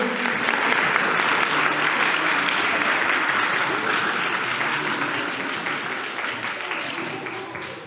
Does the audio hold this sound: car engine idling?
no